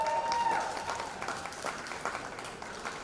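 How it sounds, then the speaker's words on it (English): Applause from the crowd at a swine show for a champion junior showman, fairly soft and scattered clapping with a brief whistle-like tone at the start, fading slightly over three seconds. "so we can give her a round of applause"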